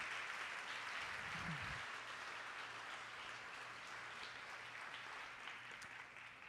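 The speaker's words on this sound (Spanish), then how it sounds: "Denle un gran aplauso al Señor." Church congregation applauding during a Spanish-language sermon, a continuous dense clapping wash heard at a distance, steady and fairly faint, with a brief low thump early on.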